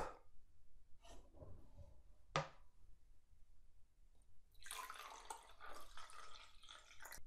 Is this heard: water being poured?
yes